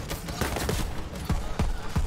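Gunfire in the video game Borderlands 3, a dense, continuous fusillade of sharp shots and bursts layered over a loud, busy game soundscape, with no voices.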